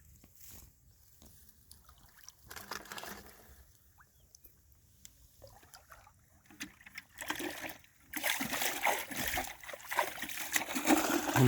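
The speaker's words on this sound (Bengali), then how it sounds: "বালতিটা ধুয়ে নিচ্ছে মাছগুলো রাখার জন্য।" A bucket for holding fish is rinsed and sloshed in water while fishing in the Sundarbans, starting as faint, sparse splashes and building to louder, continuous swishing and splattering in the last few seconds.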